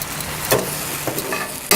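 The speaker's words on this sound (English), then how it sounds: "Throw some of the almonds in and let them brown up with the cherries here." Almonds and fresh cherries sizzle together on a grill, a loud close hiss punctuated by a few scraping stirs and clatters, with no talk.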